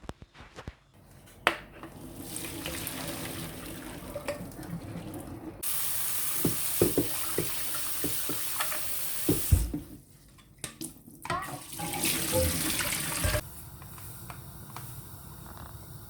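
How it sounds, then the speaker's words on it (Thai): Black beans being rinsed in water, with a steady pour and swish of water in a container and brief clatters of beans, close and continuous. "เทถั่วดำออกมาล้างดีๆ แล้วเอาไปต้มน้ำห่อน"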